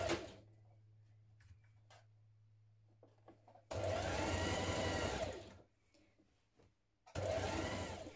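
Sewing machine stitching a blouse seam: two steady whirring runs of needle stitching, a few seconds each, close and clear, separated by quiet handling sounds.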